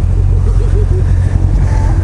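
A motorbike engine idles close by, a loud, steady low rumble with slight rises and dips in pitch that lasts throughout.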